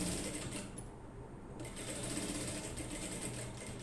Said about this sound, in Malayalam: ഇനി ബാക്കിയുള്ളത് ഇതുപോലെ സ്ട്രെയിറ്റ് ആയിട്ടൊന്ന് സ്റ്റിച്ച് ചെയ്ത് കൊടുക്കണം.